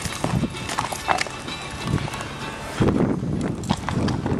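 Horse hooves clip-clop in an uneven rhythm on a hard surface, close by, with some shuffling and rustling in between.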